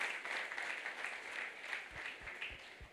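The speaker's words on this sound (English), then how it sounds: "Please give yourself a clap." An audience at a school debate prize announcement gives a short burst of steady, moderately distant clapping from a crowd, fairly faint and with no talking over it.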